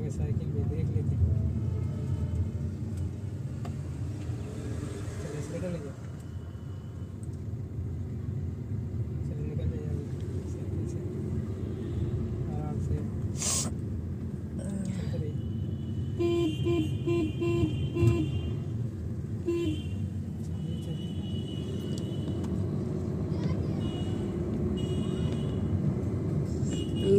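A car rolls slowly along a village road, its steady low engine rumble running throughout with faint horn-like toots and people talking over it.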